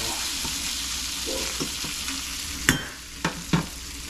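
Squirrel carnitas meat frying in a pan to crisp the edges, a steady dense sizzle with a few sharp scrape and clatter hits near the end.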